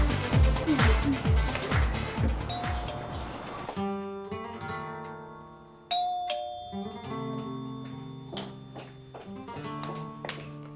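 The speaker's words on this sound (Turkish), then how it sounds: "Zili çalıyorum." A doorbell chimes with ringing tones over a background of music, then a clearer ding-dong rings out and fades.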